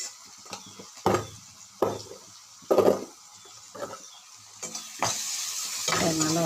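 Onions with salt and turmeric sizzle and fry in a pan, close up, with repeated scraping stirs that come in bursts over a steady crackle, no voices.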